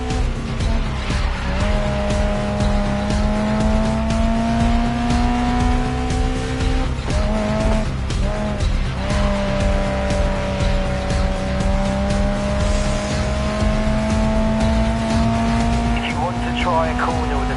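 Race car in the Grid Legends video game cornering and sliding under a touch of handbrake: a loud, steady engine drone with tire squeal and skidding running continuously throughout.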